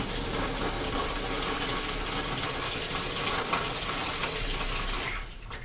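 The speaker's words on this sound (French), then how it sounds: "Dans l'eau, toujours l'eau avant." Water running steadily into a bowl to mix plaster for an ant nest, a continuous close splashing pour that holds for several seconds and thins out at the end.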